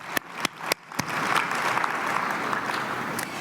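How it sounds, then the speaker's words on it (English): An audience at a sports-medicine society lecture breaks into applause. A few loud, separate claps come first, then they swell into steady, sustained clapping from a sizeable crowd. "Let's give a round of applause to all of us for the work of our members"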